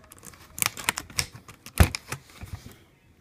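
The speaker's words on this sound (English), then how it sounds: "With a flathead or something equivalent, you want to pop this up right here." A flathead screwdriver pries up the keyboard cover on an HP Compaq NC4200 laptop, giving a string of sharp plastic clicks and snaps, uneven in rhythm and close by, with one louder pop in the middle.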